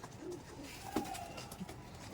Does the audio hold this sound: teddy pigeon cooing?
yes